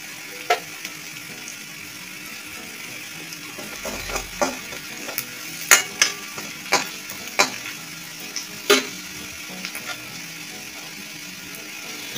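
Chili powder and masala spices fry in a pan with smashed potatoes, a steady sizzle punctuated by sharp scraping and stirring clicks of a spatula, close and fairly loud, with no talking.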